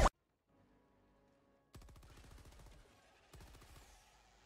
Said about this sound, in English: Shooting at the lights.